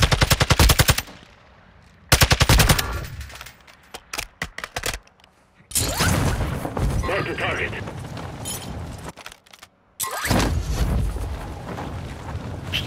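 Automatic and burst gunfire in the video game Call of Duty: Modern Warfare II crackles loudly in rapid strings with brief gaps and heavier blasts, while players talk over it.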